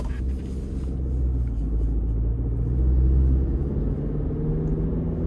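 A 2026 Chevy Colorado LT pickup with the 2.7 turbo four and eight-speed transmission drives along, a steady low engine and road rumble filling the cabin that swells briefly mid-run and settles again.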